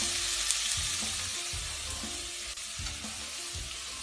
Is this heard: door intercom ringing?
no